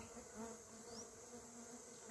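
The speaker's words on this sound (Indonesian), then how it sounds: "Nanti lebah-lebahnya kembali masuk ke dalam kotak." Trigona biroi stingless bees buzz in a steady, continuous drone close by at their hive box in Southeast Sulawesi, with a faint hum underneath and no talking.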